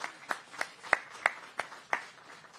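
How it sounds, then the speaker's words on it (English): Sparse, faint clapping from a small group in a press room, about eight distinct claps at a slow irregular pace, marking the three podium riders at a Monster Energy Supercross round in Denver. "Big round of applause for these three on the podium."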